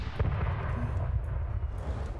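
Ammunition cooking off inside tanks in a Korean War video game, heard as a continuous dull low rumble with scattered muffled thuds and pops, fairly loud and steady throughout with no talking.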